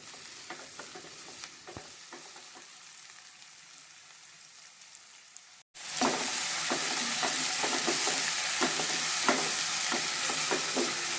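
Chickpea curry base sautés in a pan with a continuous sizzle and repeated spoon-stirring scrapes; after a brief cut the frying grows louder and brighter, all close and without speech.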